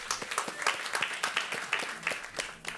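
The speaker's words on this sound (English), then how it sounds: "Give him a round of applause." Applause from a panel audience at a food-and-health discussion welcoming a physician and chef, with many individual claps audible in a lively patter, moderately loud and tapering slightly at the end, with no speech over it.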